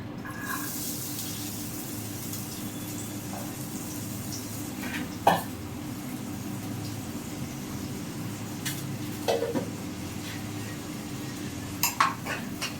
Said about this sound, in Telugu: ఆయిల్ వేడైందండి ఇప్పుడు ఉల్లిపాయలు పచ్చిమిరపకాయలు వేసేసుకుందాం